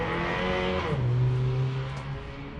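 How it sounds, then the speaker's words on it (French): A car engine revs nearby beside a boulevard, a steady droning tone that climbs and then holds, over a constant wash of traffic rumble with no voices. "Désolé si vous entendez du bruit un peu, soit pour du vent ou des bruits de voiture"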